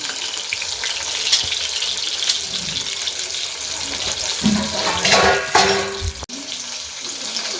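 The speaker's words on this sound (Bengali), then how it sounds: "ওখানে মূলো ভাজা চলছে।" Steady sizzling of radish frying in a pan, with occasional stirring and clattering, and a sharp click near the end.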